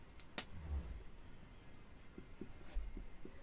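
A pen scratches and taps across paper, with soft close strokes and a few faint ticks of handwriting in a quiet room.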